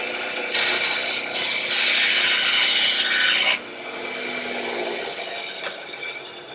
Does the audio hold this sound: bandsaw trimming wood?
yes